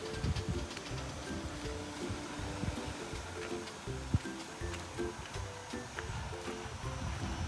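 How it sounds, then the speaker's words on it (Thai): Outdoors beside a solar-powered automatic water pumping system, a cool breeze rustles through trees in a steady, fairly loud wash of leafy noise with faint voices now and then. "ลมเย็นสบายครับดูต้นไม้นะ"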